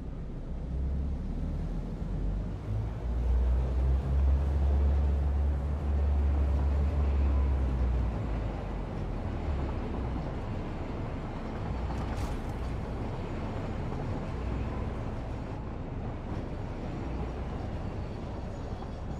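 A train rolling along a twin rail spiral track in a video game, heard as a steady, continuous low rumble with a heavier low-end drone early on, with no talk over it.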